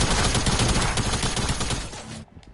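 Dense, rapid gunfire fills a Fortnite match, a loud continuous burst of overlapping shots that cuts off abruptly near the end, leaving brief quiet.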